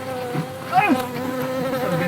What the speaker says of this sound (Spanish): ¡Hostia, que esto está lleno de abejas